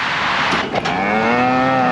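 A cow lets out a long, low moo that rises and holds, close and loud, over a steady outdoor background.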